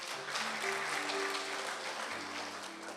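Church congregation applauding during a worship sermon, a steady wash of many hands clapping at moderate distance with sustained organ or keyboard tones underneath.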